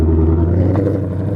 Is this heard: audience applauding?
no